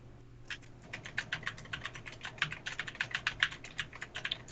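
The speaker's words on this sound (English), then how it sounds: "He's typing away." Rapid, uneven clicking of keys on a computer keyboard as someone types steadily and busily, close and dry, with a faint low room hum beneath and no talking.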